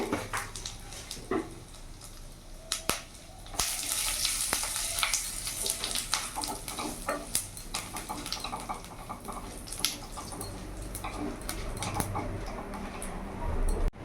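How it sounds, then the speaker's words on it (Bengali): Panch phoron whole spices crackle and sizzle in hot oil, with scattered sharp pops and ticks over a constant hiss. "ফোড়নটা ভাজা হয়ে গেছে।"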